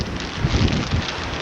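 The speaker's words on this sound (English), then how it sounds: "that wind is no longer friendly" Gusty wind blowing on an Andros beach, a loud steady rushing roar buffeting the microphone with slight surges, with no voices.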